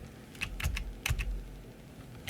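Computer keyboard arrow keys are pressed in a few quick, uneven clusters of soft clicks, close and fairly quiet, with no talking, while a user works in Inkscape.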